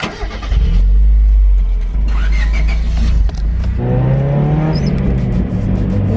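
A Honda Civic engine with a raspy exhaust revs hard and loud up close, then drops back and surges again as the car pulls away.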